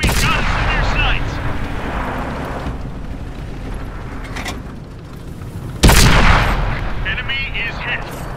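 Tank cannon fire in the World of Tanks video game, one sudden heavy boom partway through over continuous low rumbling battle noise, loud and close.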